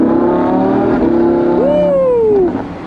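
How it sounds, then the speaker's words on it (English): Honda NSX sports car exhaust on a racetrack, a loud sustained engine drone that rises sharply in pitch into a revving burst partway through, then drops off as the shift ends, with no talk over it. "that exhaust note sounded incredible on the downshifts"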